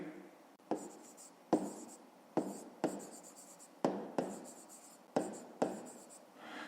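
Pen strokes scratching on paper while working a grade 5 math exercise, a series of short bursts repeating every half second to second, close and moderately loud with no talk.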